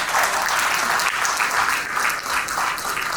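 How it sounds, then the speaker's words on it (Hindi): Loud, sustained audience applause at a motivational talk fills the room, a dense continuous roar of many hands clapping with no voices on top. "जोरदार तालियां।"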